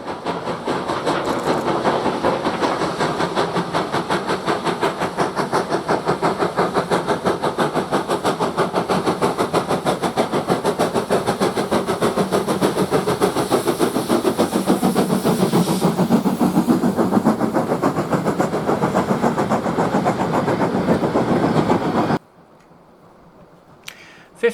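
Steam locomotive 52044 climbs away from Ingrow, chuffing loudly and rhythmically with a steady rapid exhaust beat and train rumble for over twenty seconds, then cuts abruptly to near silence.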